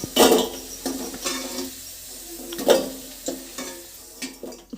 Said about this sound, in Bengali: আলুগুলো ভাজতে ভাজতে আমি মশলাটাও করে নিলাম